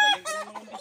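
Close, brief clucking from fighting roosters on a farm, a few quick calls in under a second with no talking.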